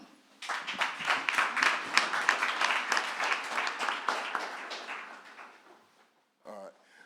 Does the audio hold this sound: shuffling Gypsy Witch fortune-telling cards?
no